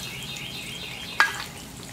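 Eggs frying over very low heat on a plow disc discada, a soft steady sizzle close by with one brief sharp tap partway through, no talking.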